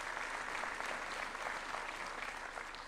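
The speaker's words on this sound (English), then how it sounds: "A round of applause." Applause from a large audience at a youth employment event at State House in Nairobi, dense steady clapping that holds throughout at moderate distance.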